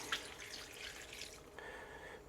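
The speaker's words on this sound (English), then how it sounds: "take about 2 cups of chicken broth, pour in there" Chicken broth poured into a pot of crawfish etouffee, a soft liquid splash and steady trickle, faint and close, with no talk.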